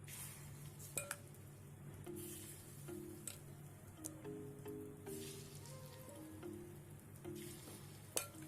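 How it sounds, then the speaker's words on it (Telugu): Egg ponganalu batter fries in a ponganalu pan, a soft steady sizzle punctuated by sharp clicks and taps of a spoon or ladle against the metal, quiet and close, with no speech. "తర్వాత స్పూన్తో కానీ గరిటెతో కానీ పొంగనాలను వేసుకోవాలండి."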